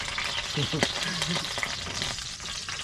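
Chips deep frying in hot oil at an outdoor camp beside an off-road camper trailer: a steady, close, crackling sizzle with bursts of bubbling and a few stirring clinks, continuing throughout with no talking.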